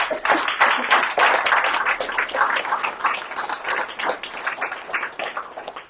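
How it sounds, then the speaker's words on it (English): Sustained round of applause from an audience at a conscious leadership social gathering in Manchester, many hands clapping densely and steadily for about six seconds at close range, with faint murmurs mixed in. "So please, everyone, give us a round of applause."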